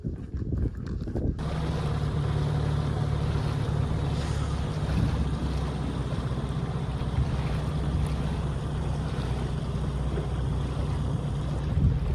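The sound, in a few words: century-old wooden schooner sailing at sea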